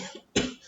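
A single sharp cough bursts out abruptly from one person, close and loud, between quieter moments.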